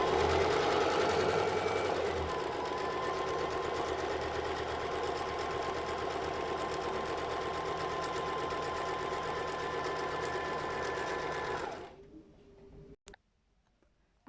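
Sewing machine stitching bias binding onto a lace panty hums and rattles steadily at close range for about twelve seconds, then stops, leaving a few soft clicks.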